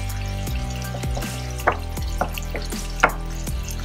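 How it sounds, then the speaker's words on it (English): Burgers sizzle steadily in a pan just after flipping, with a continuous frying hiss broken by a few soft knocks and scrapes of a utensil, fairly close, and no voices. "Now we're going to flip them over."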